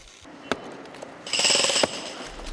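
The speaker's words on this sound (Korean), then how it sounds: "망치질이 계속되는 동안 점차 범종의 모습이 드러난다." A hammer strikes hardened casting sand off a newly cast bronze Buddhist temple bell in a foundry workshop. One sharp blow is followed by a rapid burst of ringing metallic impacts, loud and close.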